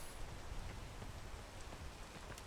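Rain falls steadily in the video game PEAK, a dense even patter of drops with a low rumbling undertone, soft and continuous with no voices.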